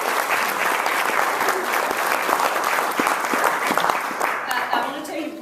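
An audience at a school luncheon gives a loud, sustained round of applause, dense clapping close by with a few louder individual claps standing out, thinning slightly near the end.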